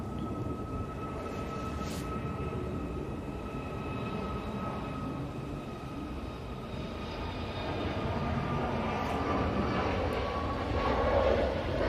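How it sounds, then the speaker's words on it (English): A Hainan Airlines A330 taking an intersection departure gives a distant jet engine roar with whining tonal hum, slowly swelling louder toward the end, no voices heard. "It's taking an intersection departure."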